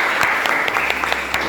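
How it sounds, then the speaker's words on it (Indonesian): Brief applause from a classroom audience for a student group after their presentation, a dense patter of many clapping hands, fairly close and steady. "Mari kita beri aplaus untuk kelompok 3 dan Mas Ragil atas pertanyaannya"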